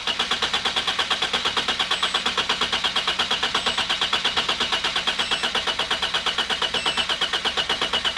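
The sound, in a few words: car engine cranking over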